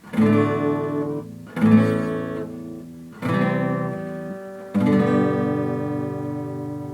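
Four strummed guitar chords, each ringing out for a second or more before the next, moving through a slow progression, clear and close with no voices.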